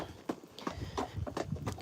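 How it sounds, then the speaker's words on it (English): Friesian horse hooves clip-clopping at a steady walk while being ridden, a series of distinct close hoof strikes in a regular rhythm. "you can all pretend you're on board Annie right now, because that's who I'm on right now"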